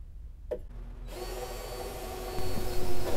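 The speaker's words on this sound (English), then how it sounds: "So here I'm using my battery powered drill, and it really didn't have the guts to get through this." A battery-powered drill in a drill guide bores into wood for a boat's bowsprit, whirring steadily after a brief click and rising to a strained, louder grind near the end.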